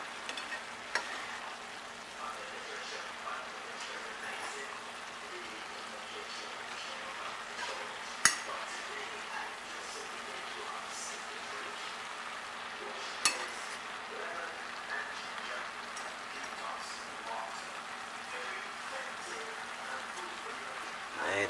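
A fork stirs cabbage cooking down in a pot, with a soft steady sizzle and occasional sharp clicks of the fork against the pot, faint throughout.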